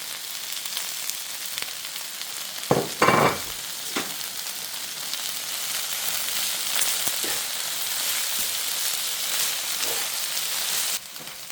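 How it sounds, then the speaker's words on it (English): Ginger and garlic sizzle and fry steadily in a hot pan, a continuous crackling hiss with a few sharp clatters of stirring near the start, close and fairly loud throughout before cutting off at the end. "you saw me tossing your ginger garlic and I gave it a stir"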